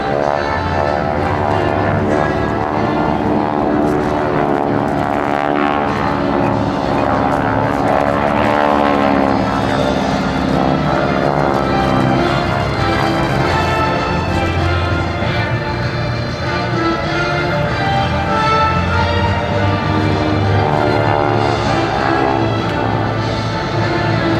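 GEICO Skytypers planes pass over an airshow, a loud, steady droning roar of several propeller engines that swells and pulses while the aircraft move past, filling the clip without talk.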